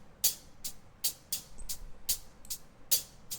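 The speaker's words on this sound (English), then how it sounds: "Hi-hat sounds without any EQ." An isolated hi-hat track with no EQ ticks through a loose pattern of crisp, bright hits, some accented louder than others, over a faint low hum; no voices.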